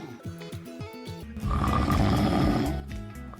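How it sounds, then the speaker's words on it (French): Snoring up close, a rhythmic rattling breath that swells into a long, loud, rough snore before easing back to the steady rattle. "Ce rétrécissement entraîne des vibrations, à l'origine des ronflements."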